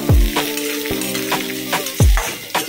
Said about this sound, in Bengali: দেখো আমার জিরে আর লঙ্কাটা ভাজা ভাজা হয়ে গেছে।